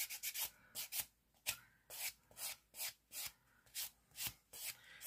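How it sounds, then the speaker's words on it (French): A nail polishing block buffs fingernails in quick, close, rhythmic strokes, about a dozen soft rasping rubs in a steady back-and-forth pattern. "Voilà, maintenant, je vais polir."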